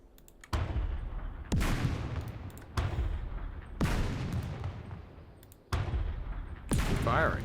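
Heavy gunfire from the Second Front wargame in a Deir el Shein battle, loud booming shots recurring every second or so, each followed by a long decaying rumble.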